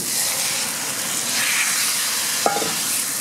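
Yogurt- and spice-marinated chicken for tikka masala sizzles loudly in a pan, a dense steady hiss of frying close by, with one brief clink partway through and no voices.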